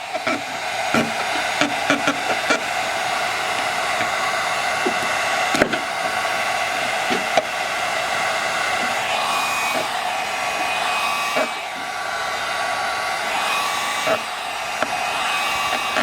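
A heat gun blows a steady, loud, continuous whoosh close by while heating tint film on the tail light of a 2018-2023 Mustang, with faint scattered clicks and handling noises throughout.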